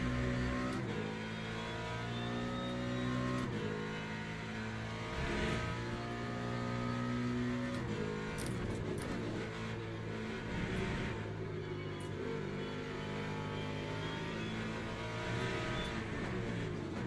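LMP2 prototype race cars in a racing video game at Interlagos thunder past with continuous loud engine drone, layered harmonic whine and shifting pitch as several cars go by, no speech.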